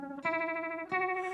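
Sabbadius 1968 Uni-Vibe pedal with its foot pedal maxed out, processing a sustained guitar chord that throbs with a fast, swirling pulse; a fresh strum lands partway through and rings on, loud and up close, with no talking.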